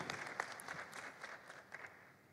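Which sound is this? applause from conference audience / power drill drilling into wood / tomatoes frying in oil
applause from conference audience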